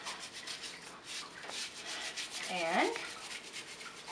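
A Yuppy Puppy bath brush rubs over a dog's nails and pads during a bath, giving a soft, continuous scrubbing texture with a brief squeaky swipe partway through, faint and close.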